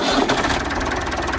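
A Landini tractor's diesel engine runs after its injectors were bled of air, a loud, close, steady mechanical chatter with a fast even rhythm and no talking.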